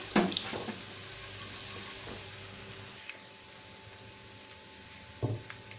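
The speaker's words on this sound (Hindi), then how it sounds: "गार्लिक को सौते करेंगे" Chopped garlic sautéing in hot oil in a wok for chicken chow mein gives a steady, moderate sizzle with soft clatters and stirring knocks near the start and a louder clunk near the end.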